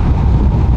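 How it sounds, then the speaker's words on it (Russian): Wind gusts across an empty mountain place along a motorcycle route through Latin America, a steady low rushing roar that buffets the microphone throughout, with no voices. "А здесь ничего нет, только ветер гуляет"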